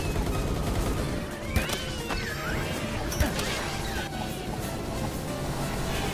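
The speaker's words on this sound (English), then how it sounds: "I need the machine gun. Where's the machine gun guy?" Machine-gun fire in the video game Palworld crackles in a continuous fusillade, with a couple of sharper distinct shots amid dense, steady battle noise.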